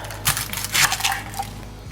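A kitchen knife trims the ends off onions on a cutting board, giving a few sharp knocks and cuts spaced out over a couple of seconds, close and fairly clear.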